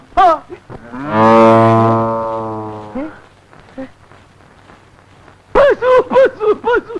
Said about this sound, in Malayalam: അയ്യോ പശു.